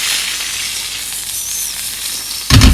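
Steady, bright sizzling of steak frying in a pan, a continuous crackling hiss that swells louder with a sharp burst near the end.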